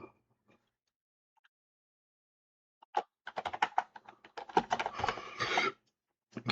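Quick bursts of clicking keystrokes on a computer keyboard as names are entered into a wheel, starting with a few isolated taps and then a dense run of typing at close range.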